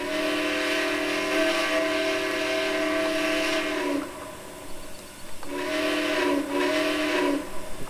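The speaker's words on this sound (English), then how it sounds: "Not a half bad sounding whistle." A steam locomotive whistle from the R&N 425 4-6-2 in the Trainz 2019 railway game sounds loud and close as one long chime lasting about four seconds. Two shorter blasts follow after a brief pause.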